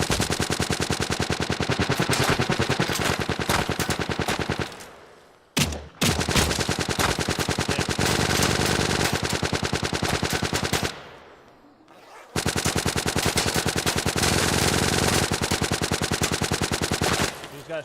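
Video-game machine-gun fire rips out in long, dense automatic bursts, loud and close, broken by two short pauses, in a survival game with tanks and base building.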